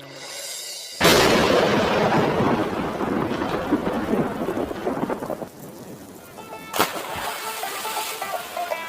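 Rain by a canal on a stormy day, a sudden loud crack of thunder opening into heavy steady rainfall with rumbling, and a second sharp thunderclap near the end.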